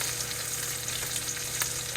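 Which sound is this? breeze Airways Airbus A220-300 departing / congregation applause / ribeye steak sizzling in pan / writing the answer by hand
ribeye steak sizzling in pan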